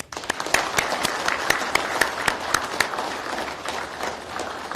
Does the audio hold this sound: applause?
yes